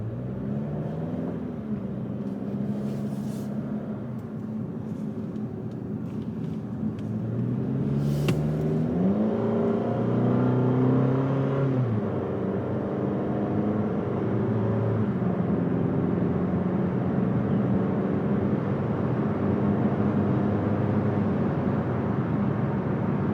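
A 2021 Toyota Camry AWD with a 4-cylinder engine drives along, giving a steady, moderate engine drone and road rumble that swells and climbs in pitch briefly partway through, with no voices.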